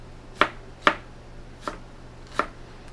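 A chef's knife chops through an onion on a cutting board, four crisp separate knocks spaced irregularly over quiet background hum.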